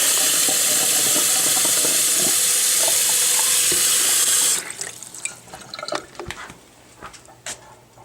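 A kitchen tap runs at full flow for about four seconds, a loud, close hiss of water, then shuts off, leaving light drips, splashes and small clunks.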